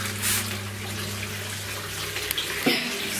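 Water runs and splashes over tiles in a shower being cleaned, a steady rushing stream with a few brief knocks and clatters near the end, and no speech.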